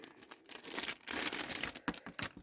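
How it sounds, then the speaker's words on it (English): Scissors snip and crinkle through plastic doll furniture packaging, a run of close, quiet cutting and crumpling sounds with short pauses, no talking. "I'm going to use my scissors."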